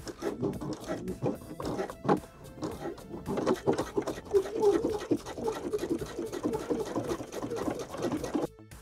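A sewing machine top-stitches a denim jacket cuff near its inner edge, running steadily with a fast rhythmic patter that rises and dips in loudness for about nine seconds.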